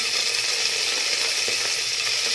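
Cumin seeds tempering in hot oil for pav bhaji give a steady, close sizzle and crackle with no talking, holding even and dense from start to finish.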